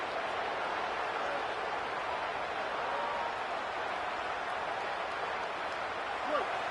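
A steady, dense stadium crowd roar from a college football video game, a constant wash of noise that stays level throughout without any distinct cheers standing out.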